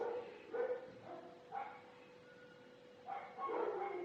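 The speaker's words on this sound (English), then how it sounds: "And if you hear dogs barking in the background," Several dogs bark intermittently in short bursts from a neighbour's yard, somewhat distant and moderately loud, with quiet gaps between the volleys.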